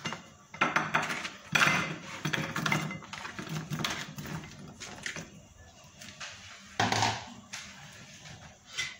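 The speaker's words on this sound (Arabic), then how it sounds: "غادي ناخذ الصينيه اللي غتدخل الفرن اي صينيه عندك غادي نحط البطاطا" Potato pieces dropped into a metal oven baking tray in a home kitchen: a run of irregular clattering knocks and clinks, fairly close and moderately loud, with brief pauses between bursts.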